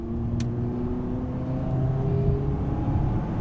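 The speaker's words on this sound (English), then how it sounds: "I'm going to do some accelerating for y'all." 2012 Ford Fusion accelerating along a road, a steady engine drone with rising tones and road rumble heard from inside the car, moderately loud and continuous.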